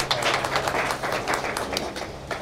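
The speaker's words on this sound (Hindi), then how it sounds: "Please Tali बजाइएगा sir." Audience applause at a film trailer launch event, brief steady clapping from a crowd filling the whole moment, fairly loud and close.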